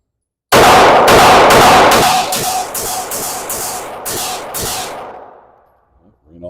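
A handgun fires ten rounds of Winchester ammunition one-handed at a shooting range: loud, sharp, evenly spaced reports in quick succession, each with a short echoing tail, then a brief quieter rustle at the end.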